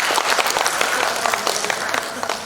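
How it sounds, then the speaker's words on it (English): A conference audience at a nursing event breaks into brisk, close applause, dense and lively with individual claps poking through, continuing throughout. "So give a round of applause to all of them."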